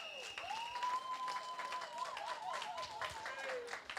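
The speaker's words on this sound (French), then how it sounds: "Applaudissons très très fort pour la reine." Wedding guests clap for the bride: soft, scattered applause, fairly quiet, with a high, wavering tone drifting over it.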